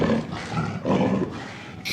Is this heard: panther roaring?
yes